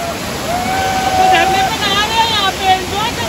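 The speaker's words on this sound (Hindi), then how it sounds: "पहला झरना आ चुका है गाइस" A steady rushing roar of a waterfall on the trek to Bhimashankar temple fills the air, with a voice and whistling tones rising over the constant noise.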